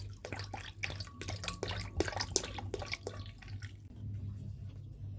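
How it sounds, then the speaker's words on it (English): Drinking water is poured into a homemade mangosteen and salak fruit wine mixture, giving splashy, trickling pours with dripping in bursts for about three seconds before the flow tapers off into quiet. "We will pour the drinking water in."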